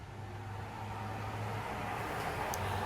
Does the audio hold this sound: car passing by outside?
yes